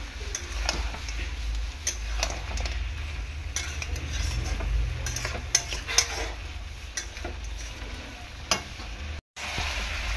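Mutton browning in a pan with ginger-garlic paste, turmeric and chilli powder sizzles continuously while a spatula scrapes and stirs, with repeated clicks and taps against the pot and a short break near the end.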